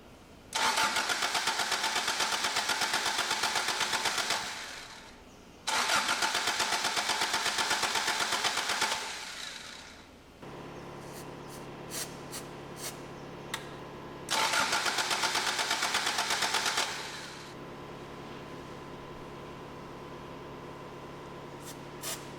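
A supercharged Toyota AE86 engine cranks without starting in three long bursts of loud, whirring starter churn, with quieter gaps and a faint ticking between them.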